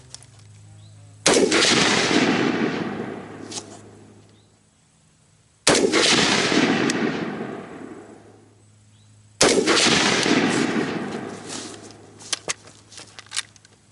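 Three loud rifle gunshots while zeroing a rifle at an outdoor range, each a sharp blast followed by a long rolling echo, spaced several seconds apart with faint handling noises between.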